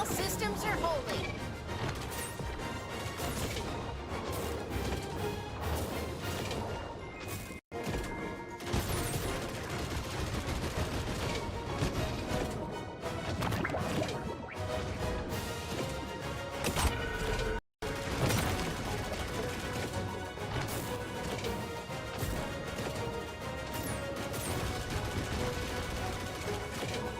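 Dense, continuous laser gunfire and explosions from the Star Fox video game, loud and unbroken over a driving game soundtrack with brief dropouts, while voices chatter over the action.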